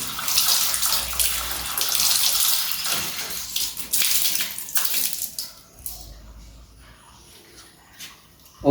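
Water pours and splashes while feet are washed during ablution, a close gushing stream for about five seconds that breaks off into quieter drips and trickles.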